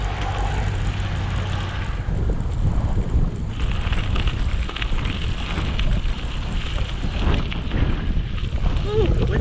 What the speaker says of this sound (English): the wind's getting up